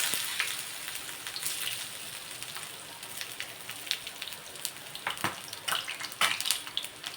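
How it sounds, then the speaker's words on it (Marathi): Alu vadi, steamed colocasia leaf rolls, frying in a little oil, a steady soft sizzle and spatter with scattered crackles, close and alone without talk. "आता बाकीच्यासुद्धा सुद्धा याच पद्धतीने आपण तळून घेणार आहोत"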